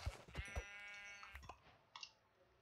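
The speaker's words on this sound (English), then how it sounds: "there's a sheep." A sheep bleating in Minecraft 1.19, one drawn-out nasal bleat after a few soft footstep-like thumps, quiet and fairly close, with a faint click afterward.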